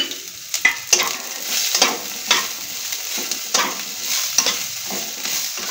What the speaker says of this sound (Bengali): পেঁয়াজটাকে এইভাবে আমি হালকা করে নাড়ব